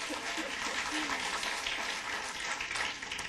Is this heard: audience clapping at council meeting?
yes